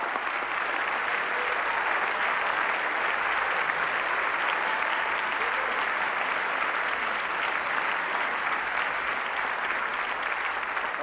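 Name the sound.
audience applause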